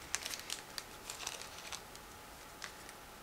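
A plastic bag holding a clear plastic sprue from a 1/48 Su-57 model kit is opened, giving faint, close crinkles and sharp little crackles in scattered bursts over about three seconds against a quiet background.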